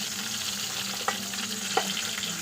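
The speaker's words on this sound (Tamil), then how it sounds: "அடுப்பை வந்து சிம்லே லோ ஃப்ளேம்லேயே வச்சுட்டு நல்லா மிக்ஸ் பண்ணி விடுங்க" Brinjal curry cooked in oil over a low flame gets stirred, with a soft steady sizzle and two light spoon scrapes against the pan.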